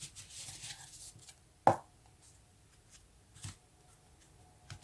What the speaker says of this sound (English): I did want to do a shuffle